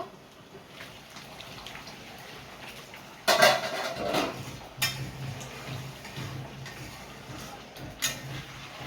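A metal lid clanks off a cooking pan of stuffed pointed gourd (potol), a sharp close clatter followed by lighter knocks and soft kitchen rattles.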